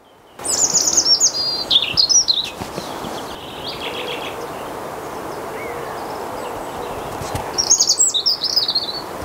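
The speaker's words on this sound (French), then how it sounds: "Coucou le petit rouge-gorge." A European robin sings in a garden. Its thin, high, warbling phrases come in bursts at the start and again near the end, over a quiet outdoor background.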